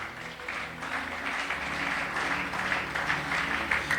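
A church congregation applauds together to acclaim the Holy Scriptures, a sustained wash of clapping that holds steady for several seconds without a clear break.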